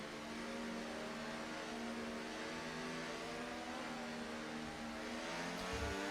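Race cars in a racing video game pull away at a restart on the Singapore Grand Prix circuit, several engines droning together as a steady, layered whine of rising pitch, moderately loud and continuous.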